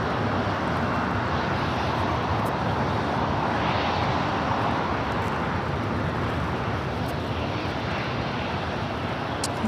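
A United Airlines Boeing 787-10 Dreamliner takes off at LAX, a sustained broad jet roar that holds steady and loud from start to finish, heard from a distance with no voices.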